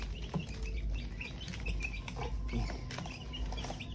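Bantam chickens pecking at mixed feed, with soft scattered clucks and small clicking pecks at moderate distance and no talk.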